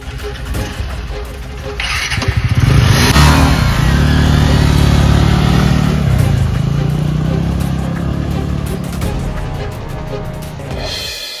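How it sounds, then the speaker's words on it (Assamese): A motorbike engine starts and revs hard, rising to a loud sustained roar before slowly fading as the bike pulls away. "বাইক ষ্টাৰ্ট কৰ"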